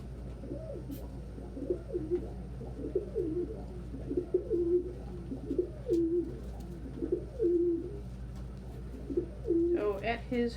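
Pigeons in a home loft give repeated soft, rolling coos, close and steady through the clip, with a brief flutter or scuffle near the end.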